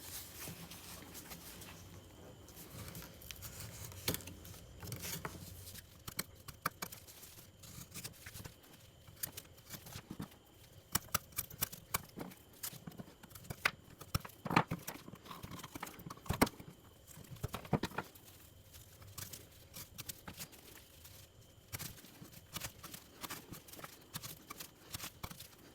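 Fixed-blade Protech SBR knife slicing through leather, a close, faint series of scraping strokes and irregular crisp ticks and snaps that repeat over about twenty-five seconds.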